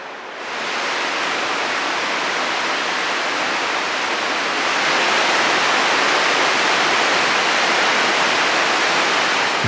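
Water falls constantly through a tight, narrow canyon crevice in the Austrian mountains, spanned by a wooden walkway. It is a loud, steady, even rush of water that swells slightly halfway through, with no talking.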